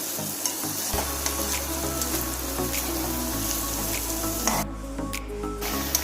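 Chicken curry sizzles and bubbles in a pan while water is added. A steady frying hiss carries a few scraping stirs and a brief splashy burst near the end, all close and fairly loud.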